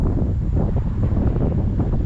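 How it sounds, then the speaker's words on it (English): Steady, loud wind rushing and buffeting a microphone outdoors on the water during evening bass fishing, a constant broadband roar with no talk. "We've got the wind at our back, so we'll be able to cast a little better."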